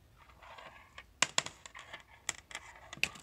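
Computer keyboard picked up through a cheap $10 Walmart microphone on a long cable, with irregular sharp clicks and clacks in small bursts over faint background hiss.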